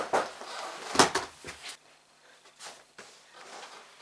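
A door bangs shut at home after a parcel delivery, with a sharp knock near one second followed by a few softer thuds and faint room noise in a quiet indoor space.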